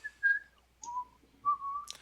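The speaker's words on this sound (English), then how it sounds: "whoever's whistling, please stop" A person whistles three clear, sustained tonal notes close by, each pitched a little differently, with brief silences between them and no talking.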